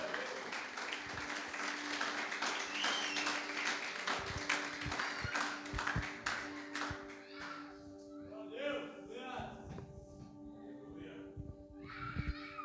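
Church congregation clapping in a sustained burst during an evangelical worship service, loud at first and thinning out toward the end, with a voice speaking over it and steady musical tones underneath.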